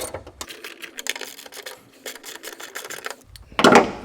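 Two 7/16-inch bolts holding a coil bracket are being removed in a car engine bay, heard as a close, rapid mechanical whirring and clicking of a tool, ending with a short louder clatter.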